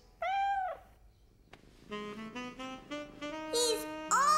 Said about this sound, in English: He's purring. That means he's happy.